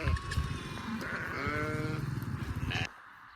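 Village sheep bleat close by, loud and wavering, one drawn-out bleat overlapping a couple of shorter calls against farmyard background noise, then a sudden drop to quiet.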